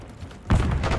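A frag grenade detonates in Call of Duty multiplayer, a sudden heavy low boom halfway through that carries a rumbling tail to the end, after a quieter stretch of game ambience.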